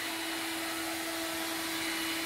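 An Electrolux Ergorapido cordless stick vacuum cleaner runs with a steady, even whir and a constant high hum, close by and unbroken, with no talking.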